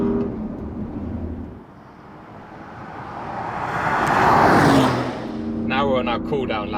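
A Porsche Cayenne S/Turbo E-Hybrid, a roughly 2.5-ton SUV, drives fast on a race track, its engine rising to a loud roaring surge before dropping away, with a voice talking at the close.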